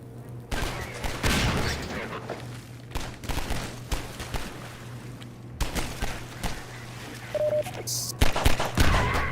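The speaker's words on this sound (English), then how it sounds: "That is cool that shooting them 3 times exactly helps them explode." Rapid gunfire in Half-Life 2 shooting explosive barrels, a dense fusillade of sharp cracks and bursts over a low game hum, with occasional louder blasts punctuating the shooting.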